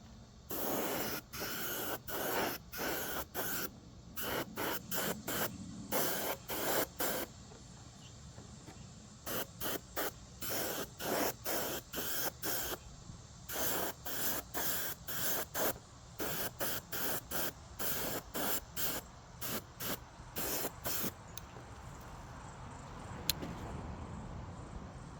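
Green spray paint goes onto a Losi NASCAR RC car body in a steady run of short, hissing bursts, each a second or less with brief gaps between, fairly faint and with no voices.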